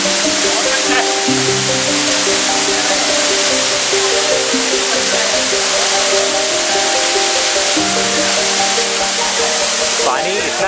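Bee Fall waterfall in Pachmarhi roars as a steady, loud, broadband rush of falling water that runs throughout without letup.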